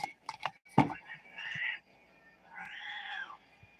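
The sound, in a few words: cat meowing in the background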